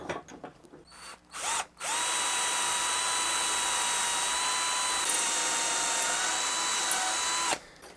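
A FAMAG power drill with a 7/8 bit, working on a guitar build, starts up and runs steadily at a high whine for several seconds before spinning down, with a few clicks just before.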